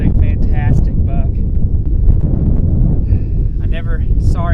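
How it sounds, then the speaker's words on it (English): Strong wind gusts batter the microphone on open Kansas public land during a deer hunt, a loud, constant low roar with brief voices breaking through in short bursts. "I never saw it so windy."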